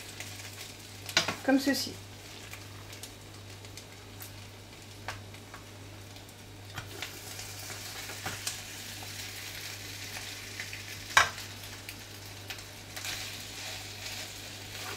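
Bulgur galette batter sizzles in a hot pan inside a metal ring mould, a quiet steady hiss with a few sharp clinks and scrapes near the start and middle, under occasional brief speech.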